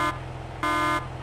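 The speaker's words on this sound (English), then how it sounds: "So it makes the horn really loud," A loud Claas air horn mod in Farming Simulator 19 blares in two sustained, steady blasts with a short gap between them, with no voices.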